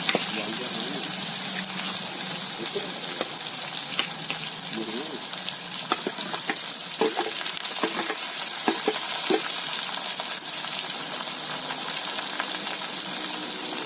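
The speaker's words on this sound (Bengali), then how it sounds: "নাড়ো নাড়ো, তাড়াতাড়ি নাড়ো" Onions hit hot oil in a pan over an outdoor wood fire and are stirred quickly, giving a steady loud sizzle with frequent spatula scrapes and clatters throughout, with faint voices in the background.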